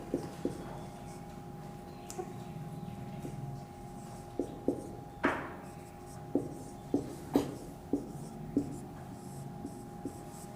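Writing on a board during a classroom science lesson comes through as a series of crisp taps and short strokes at a fairly regular pace, close and moderately loud over a quiet room hum.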